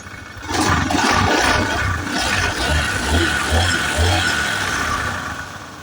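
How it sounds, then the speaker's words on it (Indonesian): A Honda Beat FI motorbike with a previously dead ignition runs steadily after starting, a close, loud, rushing engine drone lasting several seconds with slight surges. "langsung hidup ya motornya"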